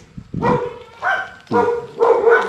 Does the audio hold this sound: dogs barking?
yes